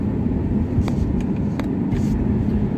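Steady low engine and road rumble inside a moving Ferrari GTC4 Lusso T, a continuous loud cabin drone with a few faint clicks on top.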